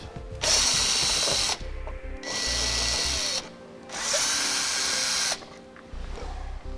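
A power drill backs out screw fasteners from a vehicle's lower fascia during a trailer hitch installation, whirring loudly up close in three bursts separated by brief pauses.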